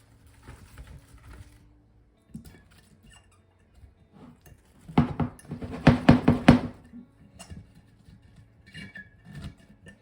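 Cauliflower florets being packed into a glass pickle jar with garlic and carrot, giving a cluster of close clinks and knocks that swells mid-clip before settling into scattered light taps.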